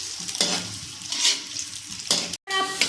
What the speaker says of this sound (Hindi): यहाँ पे हमारे पास 2 अंडे हैं जिनको हमने नमक डाल के फेंट लिया था, वो ऐड करेंगे इसके अंदर